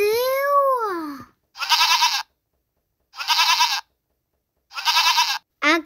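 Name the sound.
goat bleating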